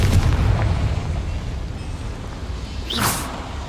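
Confringo fire spell from Hogwarts Legacy, a dense booming blast with a rumbling tail and a bright crackling burst near the end.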